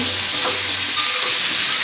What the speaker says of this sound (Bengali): সাঁতলে নিয়ে এরপরে একটুখানি ভাজা ভাজা হয়ে যাবে